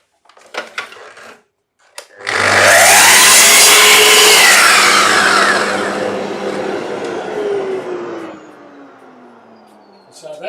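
A saw trims wood pieces for a small compound-angle box. A few brief knocks come first, then the blade winds up into a loud sustained cutting whine for several seconds and spins down to quiet.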